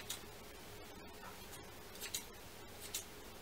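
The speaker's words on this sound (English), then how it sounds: "Oh my gosh, these scissors." Scissors cut floss for a French beaded rose, giving a few quiet, sharp snips and ticks spaced across a hushed room.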